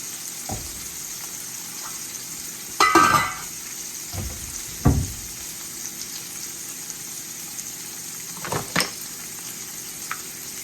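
Shrimp and scallops searing in a salted frying pan, a steady low sizzle with a few louder bursts of spatter and stirring scattered through the clip.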